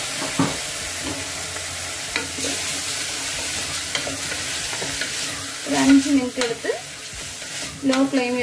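Chana dal fries in a spoonful of ghee over a low flame, giving a steady close sizzle broken by regular spatula scrapes and stirring knocks that grow louder near the end.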